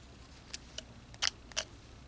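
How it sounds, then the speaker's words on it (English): A whittling knife nicks a crease into the arm of a small wooden figure carved from a one-inch block, giving four or five faint, sharp ticks and scrapes spaced unevenly over a quiet background. "Just cut a little crease in that arm in there."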